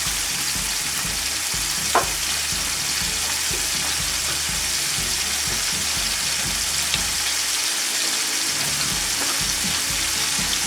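Salmon seasoned with salt and pepper sizzles steadily in a hot pan, a constant dense frying crackle with occasional louder pops, close and alone with no talk.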